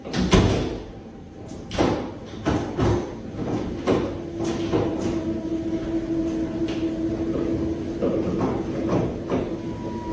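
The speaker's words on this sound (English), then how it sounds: "A door down the hallway started moving, opening and closing on its own." A door down a hallway moving open and shut on its own, with several knocks and thumps, a faint creaking tone and a steady background rumble.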